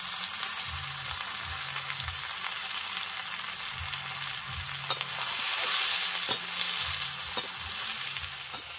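Taro stolons stir-frying in oil in a pan with green chilli, salt and turmeric: a soft steady sizzle under repeated scraping, rhythmic stirring strokes and a few sharp clinks of the spatula.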